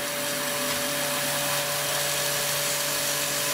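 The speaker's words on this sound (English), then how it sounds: "now show you how the vacuum regulation valve works" Steady, loud motor-like whir of a composites vacuum system as its vacuum regulation valve is unwound, a constant drone with stable tonal hum lines and no voices.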